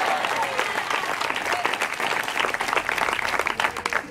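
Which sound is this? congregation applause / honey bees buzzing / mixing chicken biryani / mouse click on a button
congregation applause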